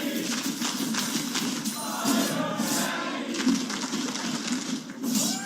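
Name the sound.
esports arena crowd cheering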